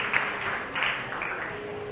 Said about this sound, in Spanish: dense un aplauso a ustedes